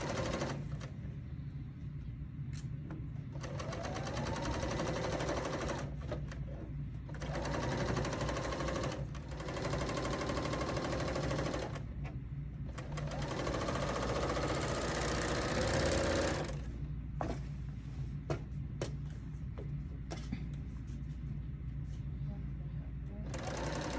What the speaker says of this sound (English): So let's go to the serger and finish this baby up.